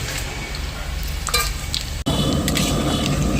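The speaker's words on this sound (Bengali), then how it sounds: "আমি তেজপাতা শুকনো লঙ্কা আর জিরে দিয়ে দিচ্ছি ফোড়নে" Bay leaf, dried red chilli and cumin sizzle in hot oil left from frying potatoes, a steady loud crackling fry close by, with brief utensil scrapes and one sudden cut before the sizzle resumes.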